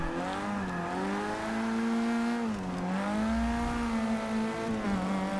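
A Caterham 7 racing car in Forza Motorsport 6 accelerates hard, its engine note rising and dipping through gear changes in a steady, loud drone with no pauses.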